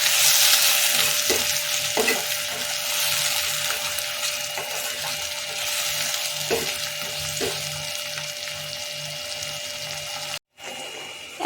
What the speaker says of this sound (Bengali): একটু নাড়াতে থাকি, তারপর সব মশলাগুলো ঢেলে দেবো